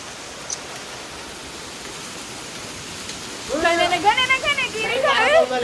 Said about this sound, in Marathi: लिजिट गारा आणि पाऊस किती जोर जोरात पडतोय